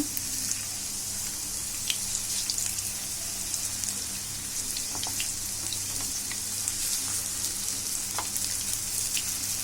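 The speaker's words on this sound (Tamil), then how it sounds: "இப்போ ஒன் சைடு நல்லா பொரியட்டும்" Wheat flour breakfast dough frying in hot oil, giving a steady, close crackling sizzle with scattered sharper pops throughout, with no talking.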